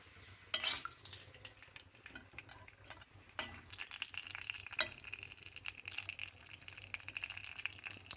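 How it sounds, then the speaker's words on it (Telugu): Mustard seeds and cumin fry in hot oil in a pan as a tempering, a faint crackle and sizzle with scattered sharp pops and occasional utensil clinks, heard close and quiet with no talking. "తాలింపు వేగింది, పోపు పప్పులు వేసుకుంటాము."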